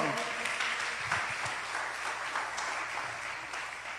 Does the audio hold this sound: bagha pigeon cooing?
no